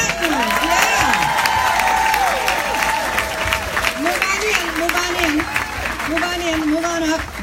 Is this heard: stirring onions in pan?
no